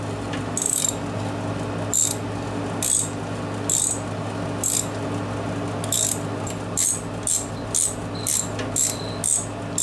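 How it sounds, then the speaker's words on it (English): Quick bursts of ratcheting clicks from a 3/8-drive ratchet turning a tap handle while tapping bolt holes, repeated in short irregular runs with pauses between, close and crisp over a steady background hum. "I've got this tap handle that's got a 3/8 drive on it, so I can get right up close"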